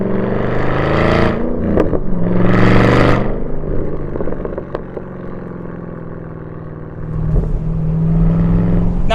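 A 2013 Camaro ZL1 with its 580-horsepower supercharged V8 and aftermarket exhaust, heard close and loud through two hard accelerating bursts, then settling into a lower cruise drone before building again at the end.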